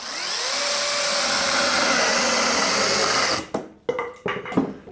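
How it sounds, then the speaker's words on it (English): A chainsaw cuts a log for a woodworking project, a loud, steady, high-pitched motor whine running for over three seconds, then cutting out into a few short, sputtering bursts. "Not used to using a chainsaw for any kind of woodworking project."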